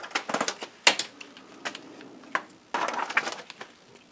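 Keys on an old, rusty, pried-open Amiga 500 keyboard are pressed in quick irregular bursts, sharp clacky taps close to the microphone with short pauses between clusters.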